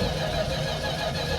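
An old engine cranks and sputters on a cold start, running through a cheap replacement carburetor, with a steady, dense mechanical churn that stays loud and unbroken throughout.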